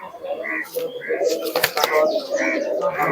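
Teddy pigeons coo and flutter nearby amid a busy mix of voices, with soft throaty calls repeating over several seconds.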